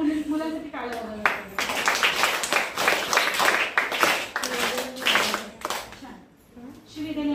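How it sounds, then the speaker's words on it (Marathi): Children clapping for their classmates at a life-skills workshop, a lively burst of applause from a group of kids that swells and fades with uneven hand claps, while voices talk over it. "जरा मुलांसाठी टाळ्या वाजवायला"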